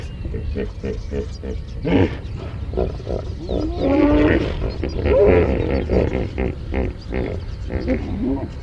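Hippos in the water give deep, rumbling grunts and roars at a southern wildlife site, with repeated low bellows rising and falling over several seconds and a brief word of speech.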